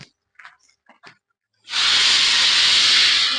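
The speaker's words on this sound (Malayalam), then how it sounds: "അപ്പോൾ കടുകിട്ടു." Mustard seeds dropped into hot oil for a cabbage thoran, a loud, close, steady sizzling hiss that bursts in and holds, after a few faint clicks and rustles.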